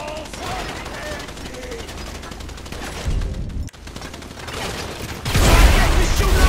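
Gunfire shootout in Grand Theft Auto 5, with continuous bursts of weapon fire that swell louder near the end, overlaid by game sound and busy background noise.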